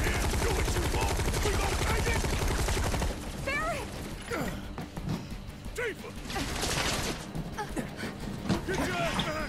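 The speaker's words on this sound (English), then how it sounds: "run out in front of gunfire might not be the best way to survive this" Gunfire in Final Fantasy 7 Remake rattles in rapid, dense bursts at first, then gives way to scattered shots and clanking effects mixed with game voices speaking.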